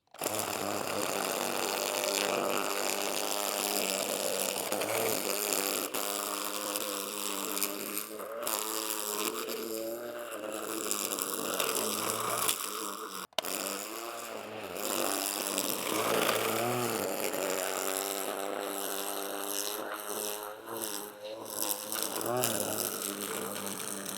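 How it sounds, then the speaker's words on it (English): A battery-powered weed whacker cuts daylilies back at the base, a steady, continuous motorized whine with harsh buzzing texture that runs without pause, briefly cutting out near the middle before resuming. "some people like to use the weed whacker when they cut back their daylilies"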